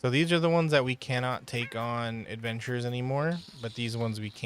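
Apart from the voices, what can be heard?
No distinct noise like a dog, phone or traffic.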